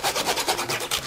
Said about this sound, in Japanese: ノコギリでいきましょう。